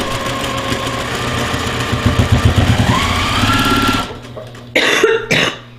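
A sewing machine stitches quilt fabric with a steady, close mechanical whir and buzz for about four seconds. It then stops, and two short bursts of stitching follow.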